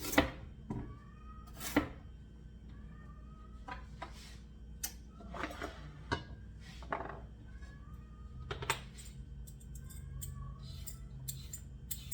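A cat meows several times, short rising calls spread across a quiet kitchen backdrop with occasional knife clicks on a board as beef stew is prepared.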